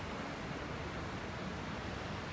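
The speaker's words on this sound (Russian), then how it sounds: "это действительно водопад." Large waterfall in Latvia, a dense, steady roar of rushing water filling the whole clip at an even level, with no voices.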